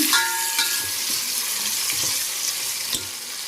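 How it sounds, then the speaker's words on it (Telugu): Drumstick pieces for sambar fry in a pan with a loud, steady hiss and sizzle, broken by a few soft stirring scrapes, heard up close with no talking. "ఇప్పుడు వచ్చేసి మనం మునక్కాయ ముక్కలు వేసుకుందామండి. సో వేసుకొని 1 నిమిషం పాటు ఇలా చక్కగా కలిపేస్తుంది"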